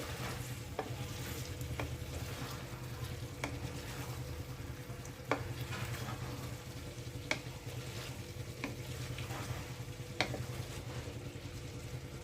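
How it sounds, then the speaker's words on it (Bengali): Constant sizzling of chicken stir-frying in a pan, with sharp scrapes and clinks of a spatula stirring every second or two over a low hum. "মাঝে মাঝে ঢাকনা খুলে চিকেনটা কষে নিতে হচ্ছে, নাহলে কড়াইয়ের নিচের দিকটা ধরে যাবে"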